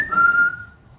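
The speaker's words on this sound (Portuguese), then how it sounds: "Quando eu chegava em casa eu assobiava." A man whistles a single short, clear note that slides slightly down and fades, close and alone, lasting under a second.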